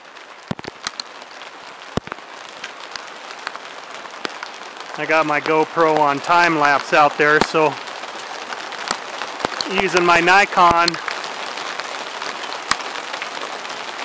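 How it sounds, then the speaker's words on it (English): Hail mixed with rain falling during a thunderstorm on the Mogollon Rim in May, a steady pattering wash across the whole stretch, with someone talking over it in the middle. "I hear the hailstorm coming down."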